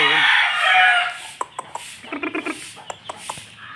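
White Kelso gamefowl roosters crowing and clucking: one long, loud crow opens, followed by a rapid run of short, sharp clucks and calls at close range, with no talking.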